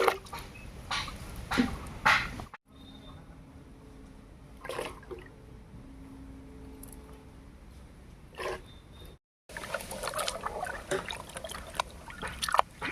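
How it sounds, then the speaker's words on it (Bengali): Raw turmeric roots are rinsed and rubbed in water, giving soft trickling, dripping and splashing close by, with a quiet pause midway before the washing sounds return more busily. "হলুদটা পরিষ্কার করে ধুয়ে নেব"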